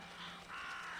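Crows cawing in The Vanishing of Ethan Carter game, a harsh, sustained call over a steady low ambient drone, brief and fairly close, with no talking.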